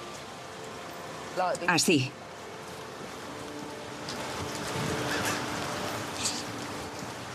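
Rain falling as a steady, even hiss throughout, with a brief spoken voice early on and faint traffic-like background.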